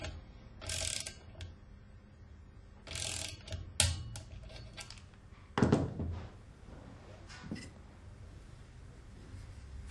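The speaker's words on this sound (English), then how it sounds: "Tighten the clamp with maximum 10 Newton meter." A clamp on a valve being tightened with a tool, a few close ratcheting clicks in short bursts with quiet gaps between them and no talk.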